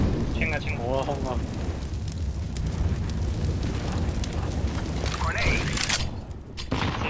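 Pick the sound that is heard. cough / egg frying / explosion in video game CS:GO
explosion in video game CS:GO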